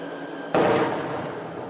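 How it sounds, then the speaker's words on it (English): A single heavy boom of outgoing artillery fire at the Thai-Cambodian border, with a sharp onset followed by a long rumbling decay over steady background noise. "The sound of speeding military vehicles and the boom of outgoing artillery"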